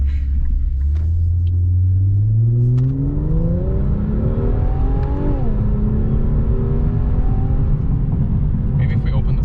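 A 2021 Infiniti Q50 400 Red Sport's engine drones loudly from inside the cabin, its pitch climbing through several gear pulls, with a deep rumble throughout and faint talk toward the end.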